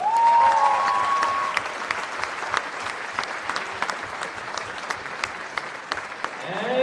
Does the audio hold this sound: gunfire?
no